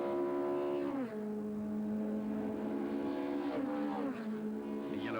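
Privateer Toyota Camry touring race car at a 1998 Killarney touring car race, its engine droning loud and steady then shifting pitch twice as it passes close by, with no talk over it.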